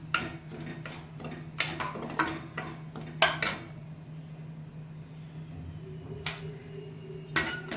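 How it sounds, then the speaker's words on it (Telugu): Bombay rava (semolina) roasting in a pan on low flame, a quiet steady background hum broken by a series of light metallic scrapes and taps of a spoon against the pan, irregular and close. "ఇప్పుడు నేను బొంబాయి రవ్వని సిమ్లో పెట్టి వేపిస్తున్నాను"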